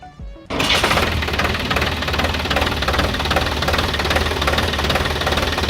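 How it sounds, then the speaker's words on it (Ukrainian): A Solis 50 RX mini tractor's three-cylinder, 50-horsepower diesel engine starts up and runs at a steady idle, its loud knocking rumble continuous and close. "Трьохциліндровий мотор на 50 кінських сил. Ось така його робота."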